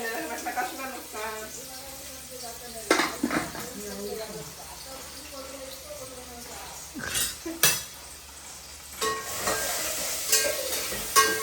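A spoon stirs crab curry in a metal pot, with scraping, clinking strokes and a few sharp knocks against the rim over a low sizzle. A voice speaks intermittently in the background.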